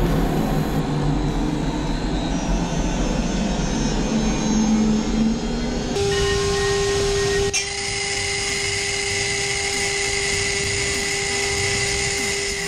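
A CNC router cuts race track shapes out of wood, its steady high whine and broadband cutting noise running continuously and loud throughout, with a sustained tone shift partway through and no talking.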